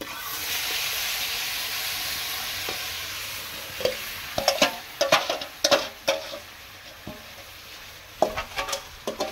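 Sugar syrup with raw papaya sizzles and bubbles in a hot wok over a steady steam-like hiss, with a string of sharp stirring clatters and spatters in the second half.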